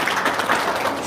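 A burst of applause, many hands clapping together in a dense, steady patter for about a second.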